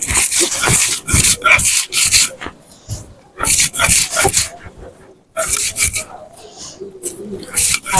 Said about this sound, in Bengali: শুটকিগুলো বেটে নেব।